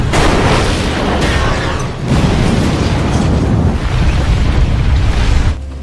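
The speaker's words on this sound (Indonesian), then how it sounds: "akhirnya ledakan terjadi dan membuat salju raksasa longsor menimpa kereta" A huge blast sets off a giant snow avalanche that crashes down onto a train, a loud, continuous rumbling roar with dense low-end thunder that holds steady for several seconds before cutting off abruptly.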